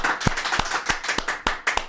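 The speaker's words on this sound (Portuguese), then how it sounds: "Palmas, palmas, palmas." Studio audience clapping to welcome a pastor onto a podcast, a short burst of distinct close hand claps at an uneven rhythm with a few sharper, louder strikes.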